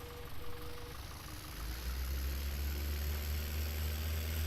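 A tractor engine idling in Farming Simulator 17 on a French countryside farm, a low steady rumble that grows slightly louder partway through, continuous and close.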